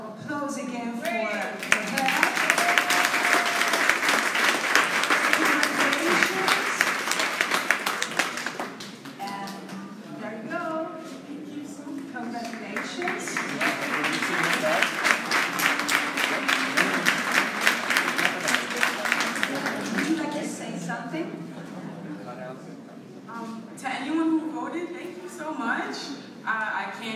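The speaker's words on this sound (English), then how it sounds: "let's have a big round of applause again for her." Audience applause at a leather industry congress, two long bursts of dense clapping from a large crowd in a hall, with a quieter stretch between them where a voice speaks, then clapping swelling again and fading.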